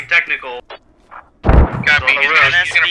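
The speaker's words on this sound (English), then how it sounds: "Yeah, mortars on target." Mortar rounds landing in the military shooter game Squad: a heavy, loud boom with a rumbling tail, preceded by brief radio-style chatter and followed by a voice talking over the lingering rumble.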